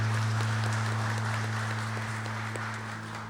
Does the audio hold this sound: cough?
no